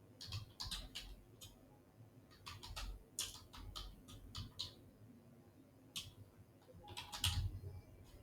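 Someone types on a computer keyboard with soft, quick bursts of key taps, broken by short pauses, heard close and fairly faint with no voices.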